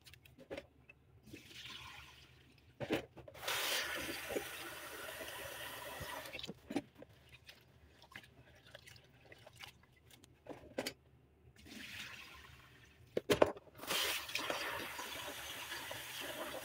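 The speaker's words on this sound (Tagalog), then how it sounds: "tapos na natin hugasan yung bigas" Tap water runs in bursts while rice is washed in a kitchen, gushing spells separated by quieter pauses and a few clanks, fairly close and moderately loud.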